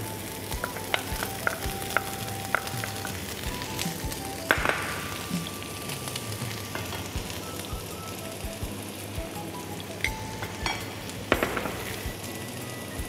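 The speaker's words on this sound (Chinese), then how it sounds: "在锅里加点橄榄油， 再把洋葱放下去炒" Onions stir-fry in olive oil in a pan with a steady close sizzle and crackle. Occasional clinks and scrapes of stirring come through, with no talking.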